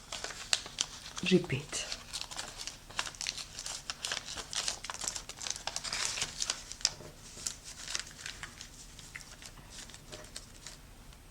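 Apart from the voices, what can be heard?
origami paper being folded and tucked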